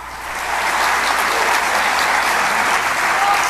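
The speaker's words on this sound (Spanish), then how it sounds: "Un aplauso para ese Señor" A church congregation breaks into loud, steady applause during a sermon, a thick unbroken wash of many hands clapping close by that swells quickly and holds.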